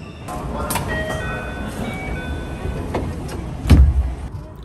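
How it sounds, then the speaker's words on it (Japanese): A JR West Yamatoji Rapid train pulls in at a station platform, its rolling rumble joined by faint whining motor tones and a heavier clunk near the end. "さあ列車がやってきました。"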